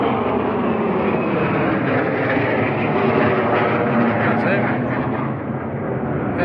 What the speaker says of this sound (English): F-35s, noisy buggers.